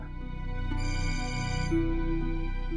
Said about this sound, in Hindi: बज तो रहा है आपका फोन।